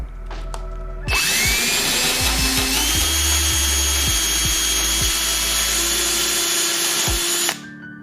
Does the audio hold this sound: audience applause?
no